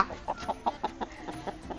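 A chicken clucks close by in a rapid, even run of short, sharp calls, about a dozen in under two seconds, with no talking.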